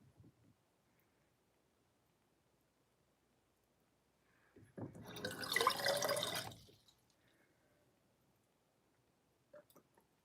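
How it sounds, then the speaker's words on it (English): Cold water is swallowed in a few gulps in a quiet room, a burst of close wet gulping and slurping lasting about two seconds, then silence with a couple of small clicks. "now I drink cold water"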